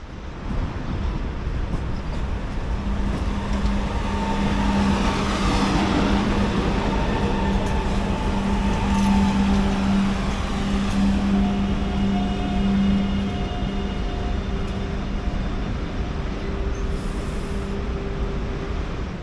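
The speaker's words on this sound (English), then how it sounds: "this weird wonky Chinese train" A Chinese-built GRT multiple unit, one of eight sets made around 2015 by China South Locomotive and Rolling Stock for Georgia, rolls in from the depot with a continuous, loud rumble and a steady motor hum lasting the whole stretch.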